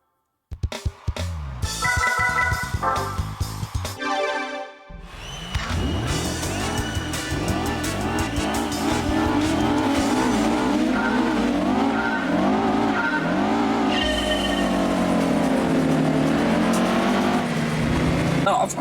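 Historic race cars in the Gran Turismo 2 video game, Historic Car Cup: menu beeps give way to engines revving at the start, then a sustained pack of cars accelerating and shifting, whining engines rising and falling with tire squeal.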